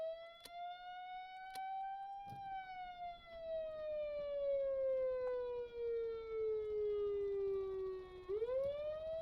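Emergency vehicle siren in the game Stormworks wails in a long, slow tone that rises, gradually falls, then sweeps back up, loud and steady with no talk over it.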